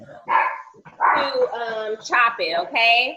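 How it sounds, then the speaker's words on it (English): A dog barks repeatedly in the background of a live camp-style cooking session where ground beef is being chopped in the pan, the barks mixed under steady close talking. "y'all have to excuse my dog in the background"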